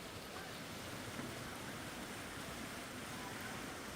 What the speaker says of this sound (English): Visuals can tell you the intensity of the water flow in these rivers.